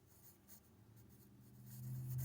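Pen writing on paper while working through a math problem, a quiet steady scratching that swells slightly toward the end, close and soft with no talk.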